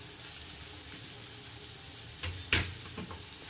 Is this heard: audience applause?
no